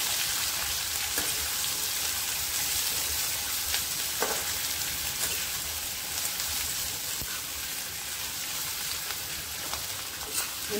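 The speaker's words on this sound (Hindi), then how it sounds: "इन्हें हम कलर चेंज होने तक भूनेंगे, जब तक ये गोल्डन ब्राउन ना हो जाए तब तक हम इन्हें मीडियम या फिर हाई फ्लेम में भूनेंगे।" Three medium finely chopped onions frying in a pan over medium to high flame, a dense continuous sizzle and crackle with occasional stirring scrapes, steady and close throughout with no talking.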